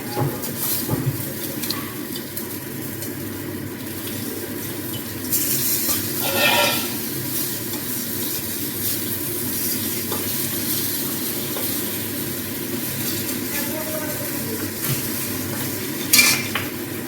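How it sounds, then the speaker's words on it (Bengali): A kitchen chimney exhaust fan runs steadily while cooking, making a constant broadband whoosh and hum under occasional utensil clinks and pan sizzle, close and moderately loud. "চিমনি চলছে, এই কারণে আওয়াজ হচ্ছে।"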